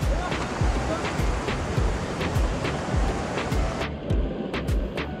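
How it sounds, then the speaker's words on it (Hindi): Rushing, high-pressure river water pours through the Dadupur barrage on the Yamuna at Yamunanagar, a loud continuous roar with surging gusts, close to the microphone and alone without voices. "ये देखो पानी का कितना तेज प्रेशर है, पानी यहाँ से आगे वापस घूम के वहीं जा रहा है"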